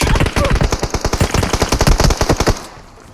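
Automatic gunfire in the mobile battle royale game PUBG Mobile: a loud, rapid burst of about twenty evenly spaced shots rattles close by for two and a half seconds, then cuts off into a fading tail.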